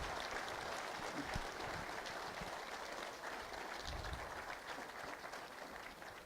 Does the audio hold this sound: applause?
yes